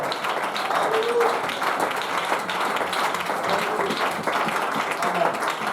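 Church congregation applauding in unison during worship, a dense, steady wash of clapping lasting throughout at even loudness, with faint voices mixed underneath.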